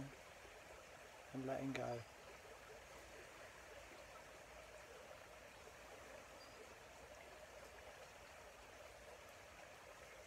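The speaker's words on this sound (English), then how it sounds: "just allow the sound of the stream" A stream flows in a faint, steady background wash, while a soft voice speaks briefly over it during a guided meditation.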